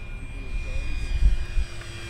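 A Durafly P-40N 1100mm RC model warplane flies slowly past, its motor a steady, moderate hum that swells briefly and fades against faint background noise.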